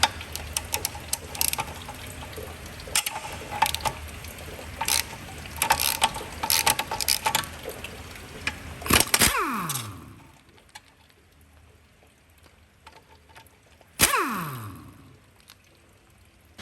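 A ratchet wrench clicks rapidly and steadily while loosening the nuts on a Chevrolet Cruze 1.4 oil cooler. The clicks are loud and close, pause briefly, and end with a metallic clatter and ring, then a second ringing clank.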